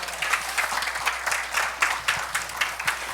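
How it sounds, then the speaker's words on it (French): An audience at a church gathering claps together in a steady, rhythmic burst of applause, fairly soft and sustained. "quelqu'un qui applaudit, on applaudit tous ensemble"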